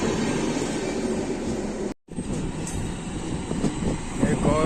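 Sanghmitra Superfast Express train from Bangalore to Danapur, with AC and general coaches and its engine, rumbling loudly and steadily on the rails, broken by a brief dropout partway through.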